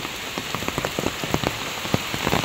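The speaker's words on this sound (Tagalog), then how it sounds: "napakalakas po talaga ng ulan" Heavy rain pours onto a house roof and the ground in front of it, a dense, steady patter of close drops with sharper splashes throughout and no voices.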